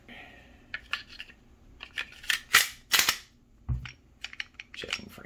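A handgun fitted with a DryFireMag dry-fire training magazine gives a series of sharp, close mechanical clicks and snaps from trigger pulls and slide handling, spaced irregularly in a quiet room.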